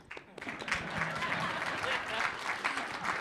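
Audience applause at a live political summit, clapping swelling in after a brief pause and continuing steadily at moderate distance, with a voice speaking over it.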